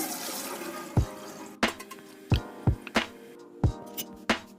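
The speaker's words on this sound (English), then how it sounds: "wash them with some cold water and drain them" Cold water runs from a kitchen tap while sesame leaves are washed under it. The flow hisses steadily, and several close, wet splashes and thumps come from the leaves being handled.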